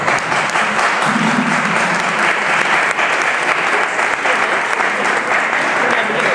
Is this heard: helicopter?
no